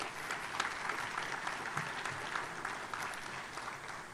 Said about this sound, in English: Let's give all these people a big round of applause.